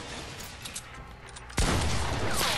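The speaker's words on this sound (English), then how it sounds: "He sniped me. I got sniped." A loud, close gunshot in a video game sounds once, sharp and full, then rings on, after a stretch of quieter background noise.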